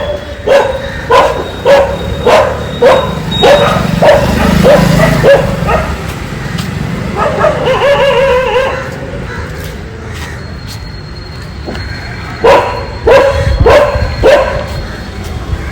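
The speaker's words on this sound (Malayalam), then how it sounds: "ഡോഗ്സ് ഉണ്ട്, ഒരുപാടെണ്ണം വരുന്നുണ്ട്." Several dogs bark in repeated bursts beside a busy road, some close and loud, others farther off, with short pauses between volleys.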